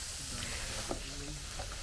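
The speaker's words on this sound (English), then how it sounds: "Oh my god, it's finally sizzling." Food sizzling on a hot spot over a campfire at a rainy mountain campsite, a steady broadband hiss with faint crackles throughout, close and moderately loud, no talking.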